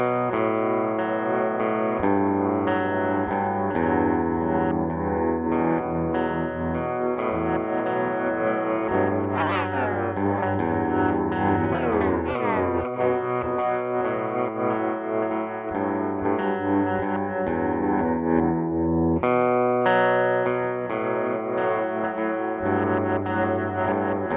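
Guitar run through the Creative Intent Remnant grainy delay plugin with freeze and envelope engaged: dense, distorted sustained chords smear into shimmering, pitch-bending grainy washes, loud and continuous, with no talk.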